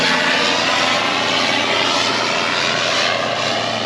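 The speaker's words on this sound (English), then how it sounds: "the noise of a plane coming into Pelican Airport" A fixed-wing propeller plane coming in to land at Pelican Airport beside the Lake Macquarie sand flats gives a loud, steady engine roar that holds throughout, close overhead, with no voices.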